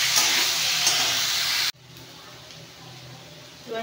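Potatoes frying in a pan give a loud, dense sizzle that cuts off abruptly partway through, leaving a quieter, steady hiss.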